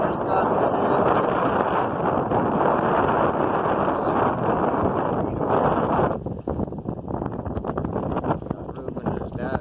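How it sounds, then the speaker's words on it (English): A strong breeze roars steadily across the microphone aboard a sailboat with tight sails off Golfito, Costa Rica, a loud continuous rush that eases slightly partway through, with a voice talking over it. "strong breeze blowing"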